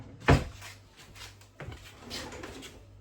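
A household junk drawer is pulled open with one sharp wooden knock and rattle of its contents, followed by a softer slide and faint shuffling nearby.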